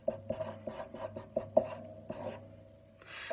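A left-handed writer moves a pen across paper in quiet, close scratching strokes, with short bursts in an uneven rhythm and small pauses between marks.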